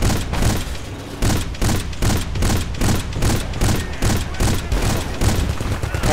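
Rapid bursts of gunfire and blasts tear through trees in the Battlefield Bad Company 2 video game, a loud, dense fusillade of repeated shots and booms pounding almost continuously close by.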